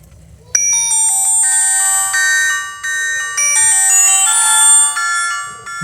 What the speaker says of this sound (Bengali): আর সেই কাঙ্ক্ষিত রিংটোনের সাউন্ড কেমন সেটা তো অবশ্যই দেখতেই হবে